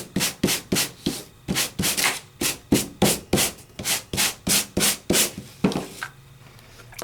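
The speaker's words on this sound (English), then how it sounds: "Let me sand it just really quickly, just so you can see." Quick back-and-forth sanding strokes rub across embossed paper after an oval embossing folder pass, about a dozen close, loud, evenly rhythmic scrapes with no talking.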